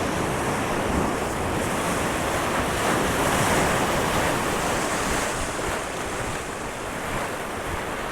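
Sea waves surging against a natural rock arch on the Vizag coast at high water, a continuous loud rushing wash of surf with gusty wind noise buffeting the microphone throughout.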